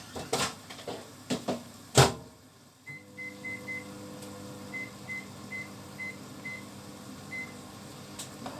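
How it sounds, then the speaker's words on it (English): Clunks and a door slam, then a microwave oven starts humming with a steady drone and a series of short electronic beeps. "I'm going to chuck that in the microwave for 5 minutes."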